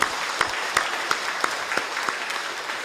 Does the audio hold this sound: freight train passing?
no